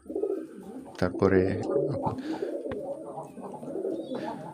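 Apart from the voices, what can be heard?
pigeons cooing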